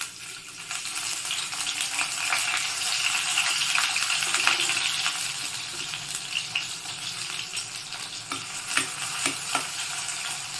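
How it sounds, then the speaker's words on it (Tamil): Steady broadband sizzling of onion frying in hot oil, with occasional clinks and stirring scrapes near the end, no voices. "இப்போது எண்ணெய் காஞ்ச உடனே முதல்ல வெங்காயத்தை போட்டுக்கலாம்"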